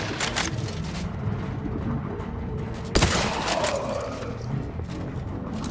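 Gunfire in The Outer Worlds 2 video game, with two shots landing as headshots: a steady background of game ambience broken by one sharp, loud report near the middle, followed by a brief swelling tail.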